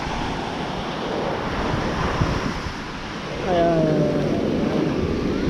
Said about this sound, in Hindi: ये है रामेश्वरम का बीच, रामेश्वरम धनुषकोटी का बीच।